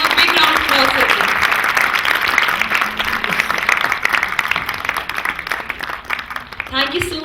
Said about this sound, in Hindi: Please, can we have a big round of applause for them?